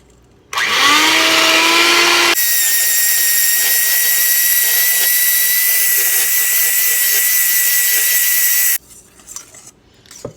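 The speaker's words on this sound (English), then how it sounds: "Then we are going to beat this until creamy." An electric mixer creams softened butter with vanilla for chocolate chip cookie dough, a loud steady whirring drone that starts abruptly, shifts pitch after a couple of seconds, then runs evenly before cutting off into quiet clatter.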